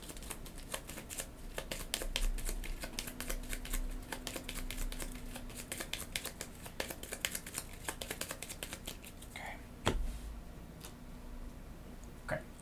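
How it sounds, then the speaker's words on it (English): Cards for the board game Moonsaga are shuffled by hand, producing a long run of quick, crisp riffling and flicking that continues alone for several seconds, with a soft thump near the end. "We'll shuffle this up."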